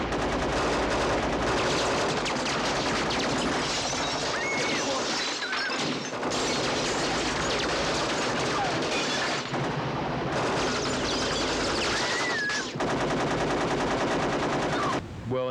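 Thousands of squib bullet-hit charges going off in a trailer during a night film stunt, a dense, loud, continuous barrage of cracks and bangs like sustained gunfire with crashing impacts.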